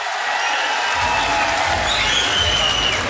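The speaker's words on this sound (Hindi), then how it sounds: "अगर ताली बजाओ तो ढंग से बजाओ" Sustained crowd applause and cheering at an outdoor rally mahapanchayat gathering, a dense continuous wash of clapping that swells after the first second, with faint voices mixed in.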